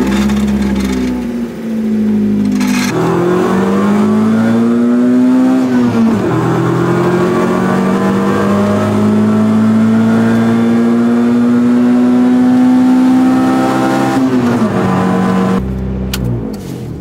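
A Toyota GR86 with a cage fitted fires up and revs, loud and close, the engine note climbing and holding steady through several long pulls before dropping back to idle.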